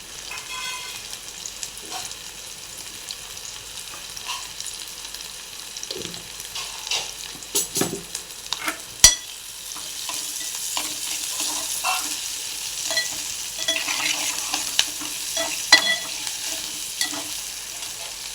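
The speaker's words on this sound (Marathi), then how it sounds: "बटाट्याच्या फोडी टाकलेल्या मिक्स करून घेऊया" Potato pieces for kanda poha fry and get stirred in a pan, a continuous soft sizzle with irregular scraping and clinking of the spoon, close and moderately loud.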